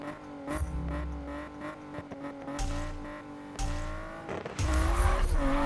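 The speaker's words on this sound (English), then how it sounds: "So now we've got a really bad rev limiter to do." A car in Need for Speed (2015) bounces off its rev limiter, the engine tone holding high and choppy while the throttle cuts in and out, with bursts of low engine roar and tire squeal in between.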